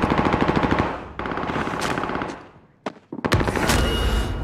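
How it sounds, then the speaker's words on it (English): Rapid automatic gunfire in a shooter video game rattles out in loud sustained bursts. A short pause is followed by a few single sharp shots and then another heavy burst. "I'm shooting Tommy in the ass"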